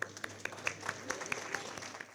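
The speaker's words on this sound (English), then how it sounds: "please give them a round of applause." An audience at a restaurant association gala ball applauds ProStart culinary students, with faint scattered claps and a few sharp clinks over a quiet room murmur.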